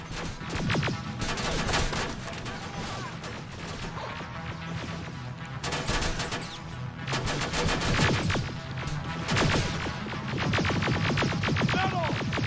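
Sustained heavy gunfire in the video game Terminator: Resistance, dense rapid bursts and crashing impacts filling the whole stretch, loud and close with several surging peaks.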